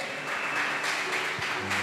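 A church congregation applauds steadily during a service, a dense, continuous patter of many hands clapping at moderate loudness throughout.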